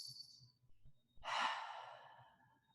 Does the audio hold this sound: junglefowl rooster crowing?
no